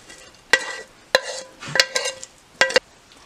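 Onions go into a pan and get stirred, several distinct sharp clatters and scrapes of utensil on cookware in short bursts separated by quiet gaps, close by.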